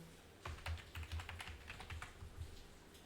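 Password keystrokes on a computer keyboard during a user setup, a quick run of soft, close key clicks in irregular bursts over about three seconds, with no talking.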